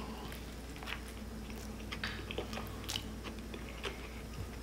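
Close, wet biting and chewing on a pulled pork sandwich with sauce and pickles, soft squishy crunches and smacking in an uneven rhythm over a low steady hum, no talking.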